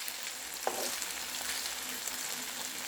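Cauliflower fried rice sizzling steadily in a hot pan, a continuous close hiss with a brief clink of a utensil early on.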